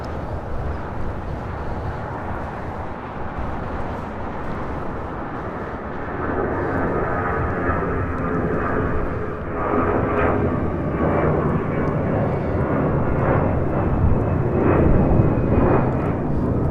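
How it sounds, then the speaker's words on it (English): A Delta Air Lines Airbus A319 takes off from LAX bound for Las Vegas, its jet engines a loud, steady roar that swells and grows harsher after the first few seconds, with no voices over it. "This is Delta Airlines 2120 taking off to Las Vegas on an A319."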